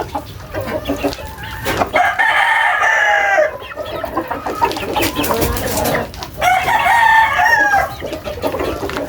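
Gamecock stags and young chickens crow loudly and cluck nearby, two long crows standing out over continuous busy clucking from the flock.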